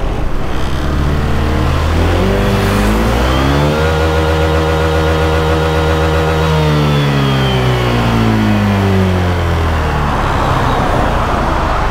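A 2020 Honda PCX150 scooter held up on its double stand revs its engine loudly and up close, climbing steadily in pitch, holding high for several seconds, then falling back.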